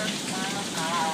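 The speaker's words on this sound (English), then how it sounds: "Look at all the hail." Hail falls during a storm at home, a dense continuous patter of ice hitting surfaces, steady and fairly loud with no voices over it.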